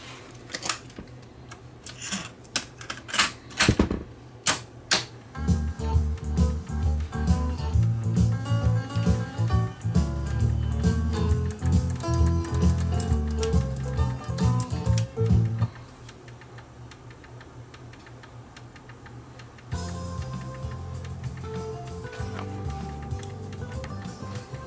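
Tascam 133 three-channel cassette deck running tape too slowly, giving a dragging, ticking mechanical playback with a busy middle stretch, then a quieter passage and a renewed steadier section, close and moderately loud.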